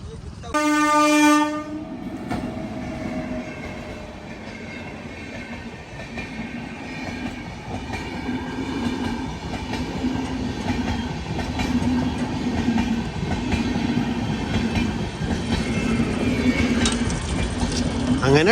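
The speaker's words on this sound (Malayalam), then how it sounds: "ട്രെയിൻ വന്നുകൊണ്ടിരിക്കുന്നുണ്ട്." A train sounds a loud horn blast at a railway gate crossing in Uttar Pradesh, then rumbles steadily past with rolling wheel clatter that holds up to the end.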